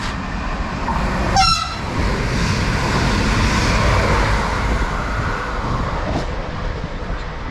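A Class 755 passenger train passes through Great Chesterford station bound for Stansted Airport from Norwich, sounding a short two-tone horn before its loud, steady rumble rolls past nearby.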